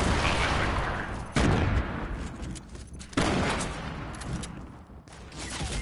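Gunfire in a duo squads shooter game, with dense sustained shooting and two sharp loud impacts standing out from the continuous battle noise, close and loud throughout.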